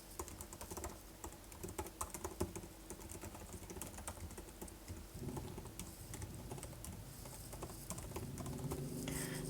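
Typing on a computer keyboard while entering a command, a steady rapid patter of quiet key clicks, close and alone with no voices.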